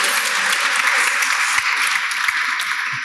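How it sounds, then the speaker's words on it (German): An audience applauds at an award ceremony in Aachen, with dense, steady clapping that fills the full three seconds. "Applaus schon mal für den Applaus."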